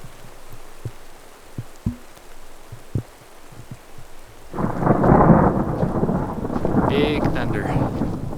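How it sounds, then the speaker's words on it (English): A deep rumble of thunder rolls in during a high-elevation rainstorm in Ecuador, rising suddenly and sustaining loud over steady rain after scattered thumps and taps. "Big thunder."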